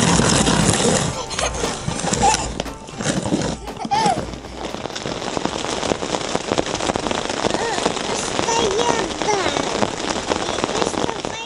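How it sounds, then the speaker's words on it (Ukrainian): Steady rain pattering on a tent pitched on a concrete pad at a gas station campsite, a dense continuous hiss of drops filling the whole stretch, with occasional heavier bursts and no talk. "Дощ таки пішов"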